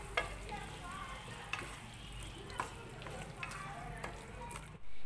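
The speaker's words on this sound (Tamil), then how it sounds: "இப்போ நம்ம ஃப்ரெஷ்ஷாக அரைச்சி வச்சுருக்க கரம் மசாலா சேர்த்துடலாம். நல்லா கலந்து விட்டுறலாம்." A spoon stirs freshly ground garam masala into a sizzling paneer biryani gravy, giving soft scraping strokes at a fairly regular rhythm over a quiet, continuous frying hiss.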